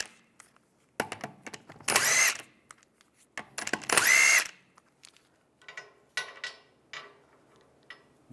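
A power tool with a 17mm socket spins Volkswagen Beetle wheel bolts loose in short, sharp bursts, two longer whirring runs standing out among clicks and brief zips, close and alone.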